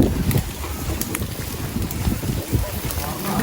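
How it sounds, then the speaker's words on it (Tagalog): Strong wind gusts outdoors beside a backyard fire grilling pork barbecue, a rough, buffeting rush across the microphone with a faint crackle beneath. "Lakas ng hangin."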